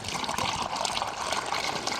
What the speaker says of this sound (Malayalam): ഇനി അതിൻ്റെ 2-3 ഇരട്ടി വെള്ളം ഒഴിച്ചു കൊടുക്കാം കേട്ടോ.